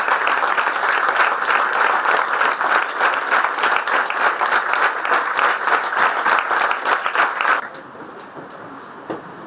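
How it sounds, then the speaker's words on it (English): An audience applauds an artist after a thematic dance-music performance on the nine goddesses, with dense sustained clapping for about seven seconds before it drops away to a quieter room. "Please give a big round of applause to this extremely great and tremendous artist."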